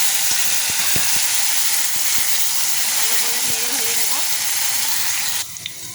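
Pieces of taro and potato drop into hot oil already crackling with dried red chilli and five-spice seeds. A continuous close sizzling hiss follows, broken by sharp ticks and pops, and it cuts off abruptly near the end.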